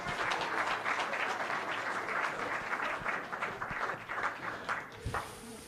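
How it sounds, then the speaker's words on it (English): Applause from an audience at a school board meeting for a preschool student moving up to kindergarten, dense steady clapping throughout that thins slightly toward the end. "Clap it up for Dorothy."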